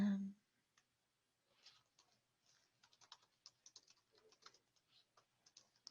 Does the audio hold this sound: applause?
no